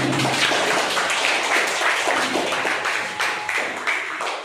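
A group applauds to welcome a contestant in a children's Kaun Banega Crorepati-style quiz game. The clapping is loud, dense and continuous throughout and slowly thins toward the end, with no speech over it.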